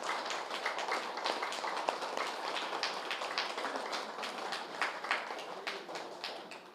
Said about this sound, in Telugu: కాబట్టి ఒకసారి గట్టిగా చప్పట్లు కొడదాం పత్రి సార్కి